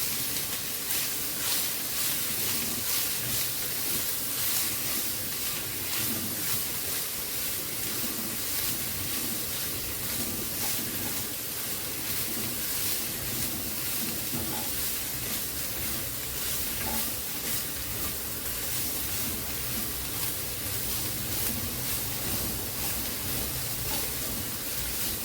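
Boiled, squeezed soya chunks frying in a pan, heard as a steady hissing sizzle that runs evenly and unbroken for the whole stretch, moderately quiet and close, with faint stirring beneath.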